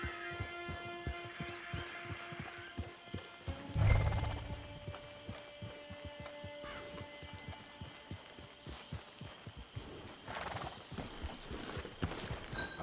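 Horse hooves clip-clopping in a rhythmic run in Red Dead Redemption 2, with a whinny partway through, all over a low steady hum and faint game tones.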